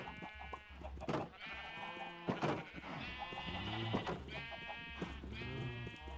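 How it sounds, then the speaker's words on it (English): Minecraft sheep bleat repeatedly in long, wavering cries, several overlapping calls close by with brief gaps, no talking. "Get your butt back in here, white sheep."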